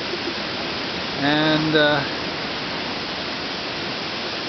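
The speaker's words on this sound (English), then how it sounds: "waterfall." A waterfall at the end of a hiking trail where people swim, giving a steady, even broadband rush of falling water throughout, with a brief spoken word over it.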